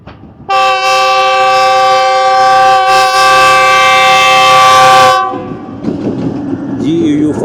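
The Shah Latif Express, a passenger train crossing the Thar Desert toward Mirpurkhas, sounds a loud, sustained multi-tone horn for about five seconds, followed by the rumble and clatter of the running train.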